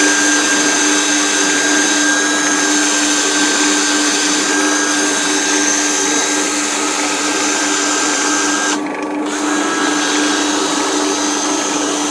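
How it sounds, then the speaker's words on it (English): A woodshop dust collector runs alone while a Fiji mahogany bowl is turned: a steady, loud mechanical whine and roar continuously, with a brief dip near the end. "I've got to turn the dust collector on and it's really noisy"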